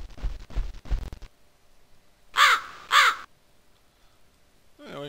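Two harsh crow caws ring out in quick succession after a burst of electronic tones in the video game Chronomaster, followed by quiet and a brief sound at the end.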